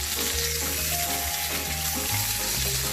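A porterhouse steak sizzles steadily in a hot pan, a dense, continuous crackle and hiss heard up close with no talk.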